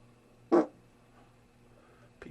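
A single short fart bursts out near the start, loud and close, followed by near quiet with a faint hum and a small noise at the end.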